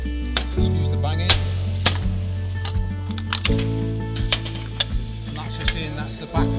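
Repeated banging and knocking as a toughened plastic casing is broken open to reach the brass inside, a series of sharp irregular impacts close by over a steady low hum.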